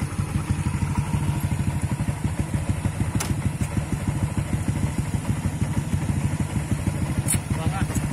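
Motorcycle fitted with a racing carburetor idling and running close by, a steady rapid low engine pulse throughout, with faint knocks and a couple of sharp clicks.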